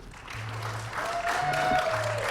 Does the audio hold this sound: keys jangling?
no